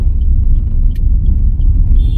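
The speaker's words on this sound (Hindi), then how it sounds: "भैया भैया गाड़ी बहुत तेज आ रही है" A car on a busy market road near Sarojini Nagar comes on fast, its loud, steady low rumble close by and filling the whole stretch, with faint high clinks from the street.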